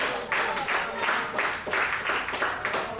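Crowd at a Future Pro Wrestling Summertime Brawl 2024 match cheering and clapping, a sustained wash of applause in rhythmic swells, steady and moderately loud from a sizable audience.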